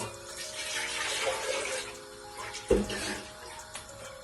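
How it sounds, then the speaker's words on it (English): Water is poured into a pot of seasoned chicken being cooked for Jamaican fried chicken, a soft steady splash, with a light clink near the end. "Add some water as well."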